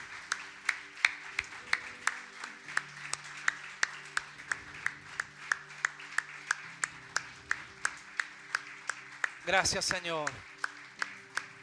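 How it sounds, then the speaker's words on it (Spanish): A church congregation claps in a steady rhythmic beat of sharp, evenly spaced hand claps, close and fairly loud, with talk and a tonal musical background underneath. "Fuerte, fuerte, fuerte ese aplauso para nuestro Rey."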